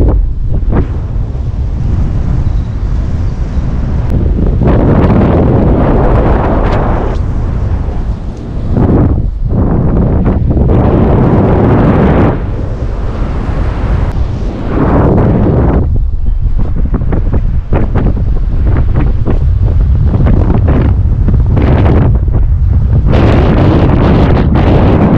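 Heavy wind buffets the microphone continuously, a loud rumbling roar that surges and dips throughout with no voices.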